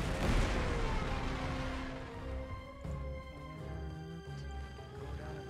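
Bombing runs in the strategy game Panzer Corps 2 on an Egypt map, a loud explosion booming at the start and decaying into a rumble, followed by smaller distant thuds over a droning musical tone.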